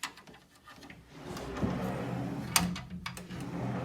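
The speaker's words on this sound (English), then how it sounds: "This also has pocket doors" A pocket door in a house slides along its track, making a soft rolling rumble with a few light knocks and clicks at close range, fairly quiet.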